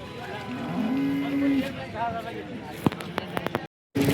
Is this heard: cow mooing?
yes